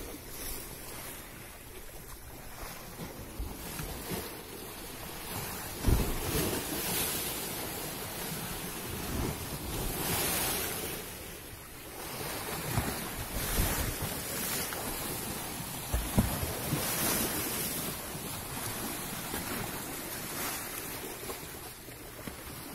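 Ocean waves break on the shore in a long, broad wash of surf, swelling and fading in several surges, with wind buffeting the microphone and no talking.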